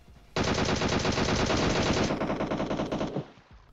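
Sustained automatic machine-gun fire in the shooter game PUBG Mobile, a loud rapid burst lasting close to three seconds at close range before cutting off, with no talk over it.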